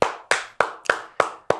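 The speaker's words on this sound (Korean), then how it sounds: "우리 예배를 받으신 하나님께 우리 다시 한번 감사와 찬양과 영광의 박수 올려드립시다." Six sharp, evenly spaced hand claps from a congregation at a Korean Sunday worship service, crisp and close in a steady rhythm.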